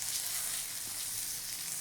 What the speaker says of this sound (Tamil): இந்த மாதிரி மீன் பொரிக்கிறப்ப